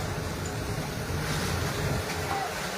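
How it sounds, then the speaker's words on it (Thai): Strong wind gusts at a house fire in Udon Thani, Thailand, where two-storey wooden houses are burning, make a steady, close, blustery roar across the whole clip with no voices. "ลมค่อนข้างรุนแรงเลยทีเดียวนะครับ"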